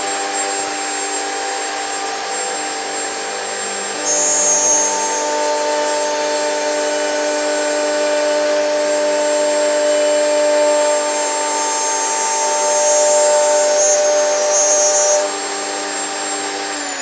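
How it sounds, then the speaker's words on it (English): A woodworking router cuts timber held hard against a fence, a loud, steady high-pitched whine running throughout, swelling with a harsher cutting tone for several seconds mid-pass and again near the end, with no talking. "I'm just going to pass over the top of the router bit, keeping the timber hard up against my fence"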